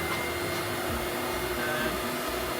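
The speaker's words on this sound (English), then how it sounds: "Put the dust extraction on for the sanding." A dust extractor in a woodturning workshop roars steadily and close, a constant airy whoosh with a faint tonal whine and no breaks.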